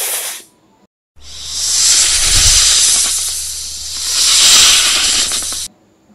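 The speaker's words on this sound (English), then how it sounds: "What sound does a snake make?" A snake hisses in one long, loud, breathy stream lasting several seconds, swelling and easing in strength, preceded by a short separate burst, with no voices.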